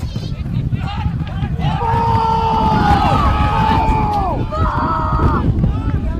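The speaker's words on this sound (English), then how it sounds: "Crowd calling for ball against the Tigers" Country football crowd at a Sea Lake Nandaly versus Birchip-Watchem match, spectators yelling and calling out together for a free kick against the Tigers, a rising collective shout over windy outdoor noise.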